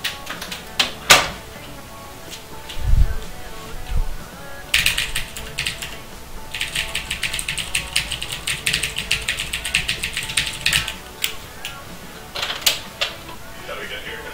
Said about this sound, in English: Close the door and I'm going to type on my keyboard. See if you can hear me. It's a mechanical keyboard.